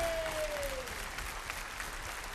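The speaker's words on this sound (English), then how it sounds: "Let's give her a nice round of applause." An audience claps in a steady, dense wash of applause throughout, moderately loud and sustained with no break.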